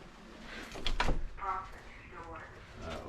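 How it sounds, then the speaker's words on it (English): A door slides or swings open with a short scraping rattle, surrounded by people talking nearby. "Just go through that back door."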